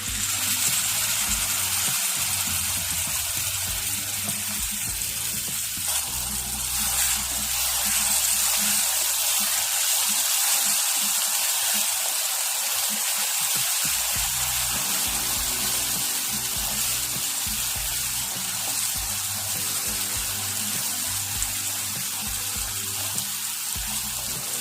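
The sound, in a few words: ground paste added and frying in pan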